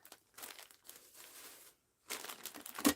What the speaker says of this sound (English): Let me cut the price tag off.